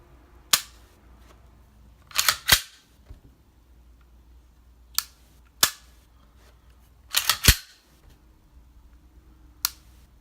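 Crisp, isolated clicks from a Sig Sauer P320 RX pistol trigger resetting, heard singly and in quick pairs and clusters with short quiet gaps between, close and dry with no talking.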